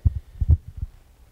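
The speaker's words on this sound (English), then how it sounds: "the first heartbeat, ba-boom, ba-boom, ba-boom" A heartbeat sound effect at a church youth service: close, deep thumps in paired lub-dub beats, strong at first and then fading, with no voices.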